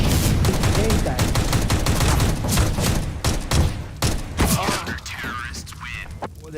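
Rapid gunfire in Counter-Strike: Global Offensive, dense bursts of sharp shots crackling through the first few seconds, then scattered single shots as a voice talks over the action.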